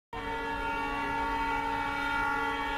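A train sounds its horn as it arrives, one loud sustained multi-tone blast that starts abruptly and holds steady for several seconds, close and alone.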